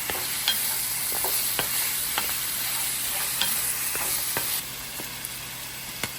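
Goat meat frying with ginger and garlic in a pan for a curry, a steady close sizzle broken by scattered clicks and scrapes of stirring, with no voices.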